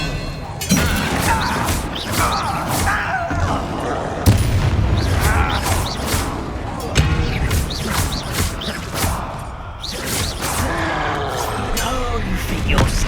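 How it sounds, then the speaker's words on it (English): Expelliarmus cast during a duel in Hogwarts Legacy on PC, heard amid a dense barrage of booming magical impacts, crashes and thuds that keep going under shouted game dialogue. "Expelliarmus."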